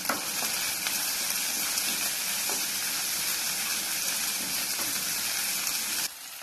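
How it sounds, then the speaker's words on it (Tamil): Small onions salted lightly and sautéing in a pan for chayote poriyal, giving off a dense, loud, continuous sizzle that cuts off abruptly near the end. "நல்லா வதக்கிக்கலாம்."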